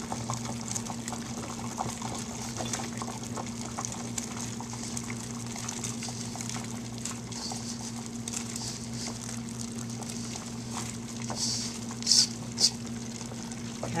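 Egg noodles dropped a little at a time into boiling chicken broth in a pot, giving a steady close bubbling and patter with a couple of sharper splashes near the end, no talking.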